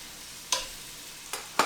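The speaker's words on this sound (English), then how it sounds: "It's kind of sizzling." Meat frying in a hot, oiled pan gives a soft, steady sizzle, punctuated by three brief clinks or scrapes from stirring, close and fairly quiet with no one talking.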